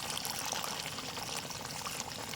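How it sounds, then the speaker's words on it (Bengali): Water poured into a pot of mutton curry cooked with yogurt, a steady splashing stream running continuously, close and fairly soft. "তো আমরা এখন ঝোলের জন্য হালকা একটু জল দেব"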